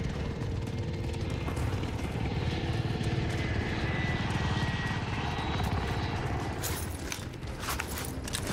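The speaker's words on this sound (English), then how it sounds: "Be advised, enemy attack chopper incoming." An enemy attack helicopter approaching in a video game: a steady, loud rotor drone with a thrumming mechanical rumble runs throughout, shifting slightly near the end.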